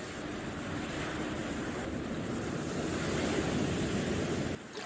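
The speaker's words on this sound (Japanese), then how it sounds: "見て。 海、" Sea waves washing onto the shore, a steady broad roar of surf with wind rushing over the microphone, continuous and fairly loud, no voices.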